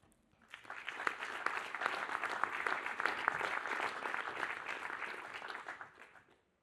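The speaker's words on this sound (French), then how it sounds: "je compte sur vous pour les applaudir très fort" An audience claps for startups about to pitch at the final of a wood construction startup challenge. The applause swells quickly, holds dense and steady for several seconds, then fades out near the end.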